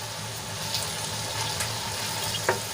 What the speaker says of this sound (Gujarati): મસાલો સરસ રીતે ભીંડામાં આપણે મિક્સ કરી લઈશું